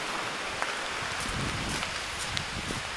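Steady, dense hiss of rain falling outdoors, even and continuous with a few faint taps and rustles, no voices present.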